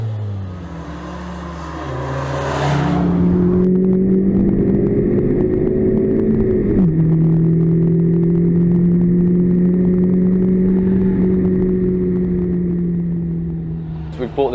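A 2015 Honda Civic Type R on the Slovakia Ring race track, its engine revving hard and climbing in pitch toward the redline, loud and close with a brief gear-change dip midway, running steadily from a few seconds in to the end.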